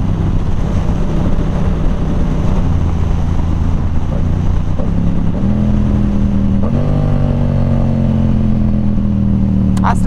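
Engine drone from a Yamaha R7 motorcycle being ridden, a steady close hum whose pitch climbs in a few stepped shifts as the bike gathers speed.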